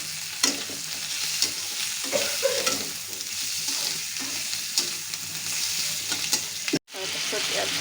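Potatoes fry in a pan with cumin, coriander and black pepper powder, a continuous hiss punctuated by clattering stirs, then a brief dropout to silence before the sizzling resumes.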